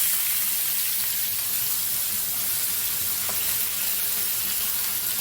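Loud, steady sizzling and crackling of onions frying in hot oil, a dense hiss that continues without a break.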